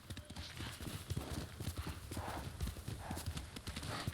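A horse gallops in the video game Ghost of Tsushima: hooves clip-clop in a fast rhythm, steady and close, with a faint whinny and a soft voice in the background.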